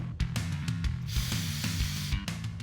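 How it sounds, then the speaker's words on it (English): Brake cleaner hisses from an aerosol can onto suspension grease fittings in short, close sprays, with one longer burst in the middle. "I like to take a little brake cleaner and wipe down the fittings."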